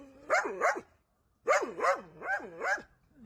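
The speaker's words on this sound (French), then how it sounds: "Et ça, c'est juste un chien." A dog near a lodging in Albania gives a series of sharp, close barks: two quick barks, a brief pause, then four more in a rhythmic run, followed by a softer yip.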